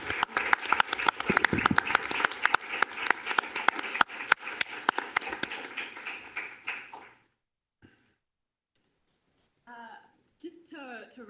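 Audience applause fills a city council chamber during a regular meeting, dense clapping with a few louder claps for about seven seconds before it stops, followed by a quiet pause and then brief speech.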